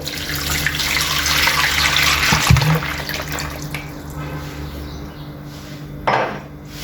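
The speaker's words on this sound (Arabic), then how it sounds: "غندير لتر ديال الماء" A liter of water runs and splashes into a metal pot with a steady, fairly loud rush, broken by a clunk of the pot partway through and a brief surge of flow near the end.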